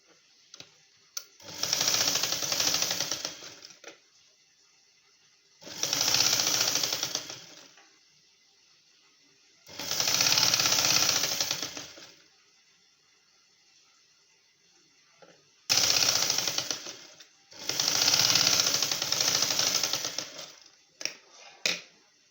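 A sewing machine stitches a prince cut blouse in five separate runs of steady whirring, each a couple of seconds long, with quiet pauses between them and no talk.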